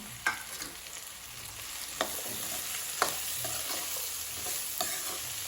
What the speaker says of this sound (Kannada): ಈಗ ಇದಕ್ಕೆ ಹೆಚ್ಚಿಟ್ಕೊಂಡಿರುವಂತಹ ಕ್ಯಾಪ್ಸಿಕಮನ್ನು ಸೇರಿಸ್ಕೊಳ್ತಾ ಇದ್ದೇನೆ